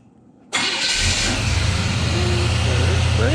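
An old truck engine, either a 1981 Chevrolet C10 or a 1971 Ford F100 4x4, cranks and catches after half a second of quiet, then settles into a loud, steady rumbling idle close by.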